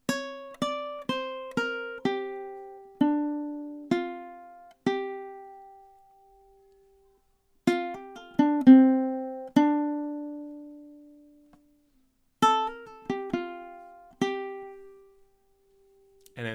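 A ukulele plays a melody in three plucked phrases, each a run of bright notes followed by a long sustained tone that rings out into silence, clear and close.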